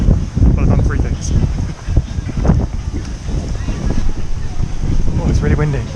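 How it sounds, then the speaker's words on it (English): Strong wind ahead of a storm at a water park buffets the microphone in loud, uneven gusts, with people talking over it. "Oh, it's really windy."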